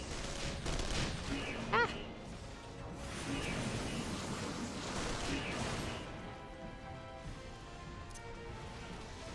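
Gunfire in the video game Final Fantasy XIV, a rapid burst of shots and crashing impacts in a chaotic battle, with a voice crying out briefly over it.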